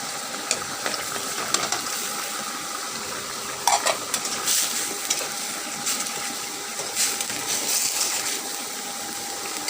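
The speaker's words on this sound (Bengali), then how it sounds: "এবার আমি এর মধ্যে পুঁটি মাছগুলো দিয়ে দেবো।" Puti fish fry with okra in a pan, giving a continuous bright sizzle. Faint clicks and scrapes of stirring come and go, and no one speaks.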